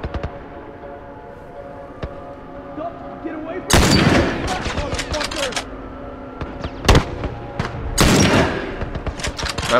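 Rapid bursts of gunfire in the video game The Last of Us crackle in clusters, loud sustained volleys with sharp single shots between, over a muffled low background hum.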